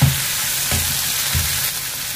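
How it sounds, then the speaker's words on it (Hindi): Cluster beans (gawar) frying with onion in a pan, a steady close sizzle with occasional stirring scrapes throughout. "अब हम गवार सेमी को ऐड करेंगे प्याज के साथ ही, इसको भी प्याज के साथ ही भूनेंगे थोड़ा सा।"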